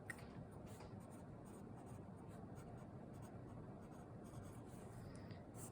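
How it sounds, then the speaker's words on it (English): Marker or chalk writing on a board in a classroom gives a soft, steady scratching and rubbing that runs continuously and faintly for several seconds, close by, with no voice over it. "So I'm going to write that definition up here at the top."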